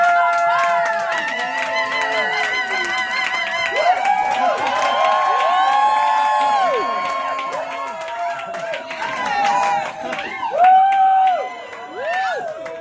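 Crowd at a burlesque comedy show clapping and cheering, a steady wash of applause with whoops and shouts rising and falling throughout, loud and close.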